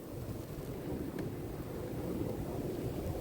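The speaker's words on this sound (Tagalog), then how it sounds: "Ito na yung inaabangang snowstorm. Sabi hindi raw matutuloy, tuloy pala." Snowstorm wind during a Montreal winter storm, a steady low roar and rumble with a continuous hiss, moderately loud and unbroken, no voices present.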